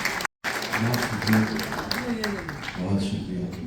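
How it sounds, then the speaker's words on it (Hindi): Applause rises from the audience at an Urdu poetry mushaira held by university alumni in Duluth, a continuous bed of clapping heard beneath a voice after a brief cut at the start. "भरपूर तालियों में"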